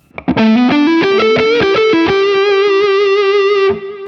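Distorted electric guitar, an Ibanez Jem 70V with DiMarzio Evolution pickups through a Matchless amp model, plays a short rising riff of sustained, overdriven notes, then holds a long ringing note that fades near the end.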